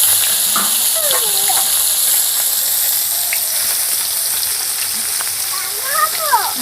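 Hot oil spatters and sizzles while singi fish fry in a home kitchen, a steady hissing crackle that runs throughout, with voices speaking and calling out over it.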